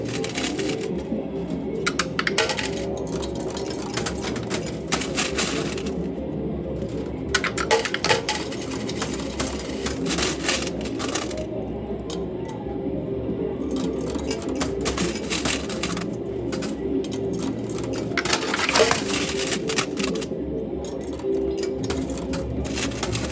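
Coins clattering in a coin pusher arcade machine, a dense run of metallic clinks and rattles with short drops and pauses over a steady mechanical hum, heard alone for over twenty seconds.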